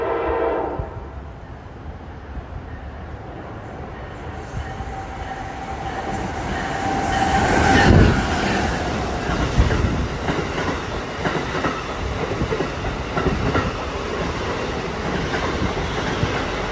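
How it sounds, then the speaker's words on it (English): A train pulls into a station platform, its low rumble and wheel noise swelling to a peak around the middle with a brief high squeal or horn, then rolling on steadily and loudly, with no talk over it. "train approaching"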